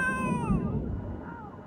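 A cat meows in The Sims 3 Generations and Seasons, a drawn-out, falling cry heard up close over a muddy low background hum.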